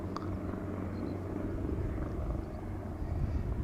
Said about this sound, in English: here we have KLM flight 1298 arriving from Billund. This is an A321neo.